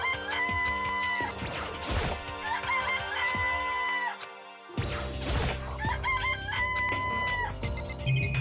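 Chicken clucks and a rooster crow from the video game Danganronpa: Trigger Happy Havoc, repeated short game sound effects over background music, loud and close.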